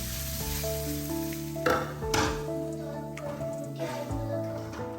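Chicken shallow-fries in oil in a pan, a moderate sizzle with a few scraping stirs and clinks of utensil on metal, faint background hum beneath.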